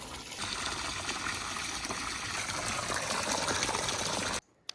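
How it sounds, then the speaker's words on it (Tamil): Water pours steadily into a newly built concrete pond tank being tested for leaks, a continuous loud rushing splash that cuts off abruptly near the end, followed by a brief knock. "அதனால் தண்ணி ஊற்றி டெஸ்ட் பண்ணுறோம் எங்கேயாச்சும் லீக் ஆகுதான்னு."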